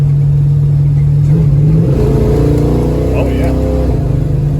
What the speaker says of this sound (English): One thing I haven't done is see if the kickdown works.